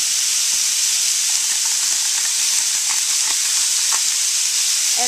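Ground pork browns in a pan with a constant, loud sizzling hiss, steady throughout, with a few faint clicks of stirring beneath it.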